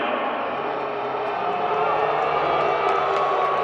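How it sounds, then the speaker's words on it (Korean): A stadium crowd cheers and claps in a dense, continuous roar, greeting a guest during a football ceremony honouring a player's 100th goal. "박수로 환영해 주시기 바랍니다"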